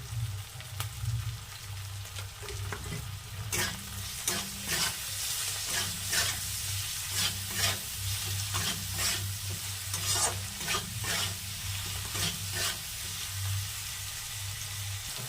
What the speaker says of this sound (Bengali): পেঁয়াজটা ভাজা হয়ে এসেছে, এবার দিয়ে দেবো টমেটো কুচিগুলো